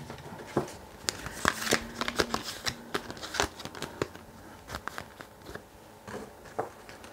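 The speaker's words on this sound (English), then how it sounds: "I'm going to go ahead and move these over so I can put these cards up." Tarot cards are shuffled, moved and set down during a Pisces love and romance horoscope reading, giving a run of soft papery slides, flicks and light taps, close and fairly quiet, with no talking.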